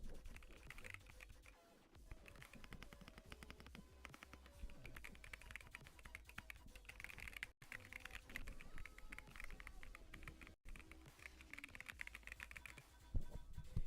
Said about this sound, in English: There's my keyboard sound.